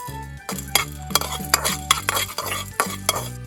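Whole spices (cardamom, star anise piece, cinnamon, cloves) dry roasting in a hot pan for pork chops, with loud scraping, clinking stirring strokes over a low tonal hum, no talk.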